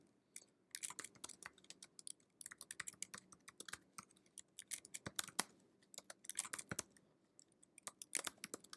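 Code being typed on a computer keyboard: quick, irregular bursts of close key clicks with short pauses between runs, fairly quiet and with no talking.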